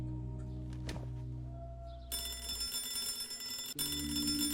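A telephone rings inside the Hello Neighbor video game, a bright electronic ringing tone that starts partway through and continues steadily over the game's low ambient hum, with a brief thunk near the end.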